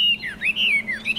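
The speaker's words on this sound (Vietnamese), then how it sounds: "Anh em có thể nghe giọng của nó nhé, là giọng đều hot hay." A Chinese hwamei songbird, a tame caged bird, sings a single clear, fairly loud whistled phrase of sweeping, rising and falling notes, heard alone without talk.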